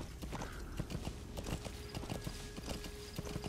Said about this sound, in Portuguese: Só um cavalo, gente, passando.